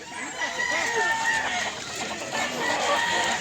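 Roosters at a poultry stall in Mantalungon, Cebu crow and cluck nearby in overlapping calls, with several birds sounding at once over a busy background where people talk.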